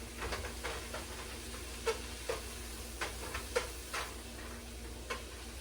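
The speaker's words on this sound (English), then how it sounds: "We'll give that a quick stir" Diced whole serrano chilies, seeds and ribs included, get a quick stir in a pot, giving soft scraping ticks spaced about every half second over a low steady sizzle, close and without talk.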